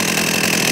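A Hyundai X460 3.1-horsepower gasoline chainsaw runs steadily at high revs, a loud, close, buzzing engine drone with no pauses.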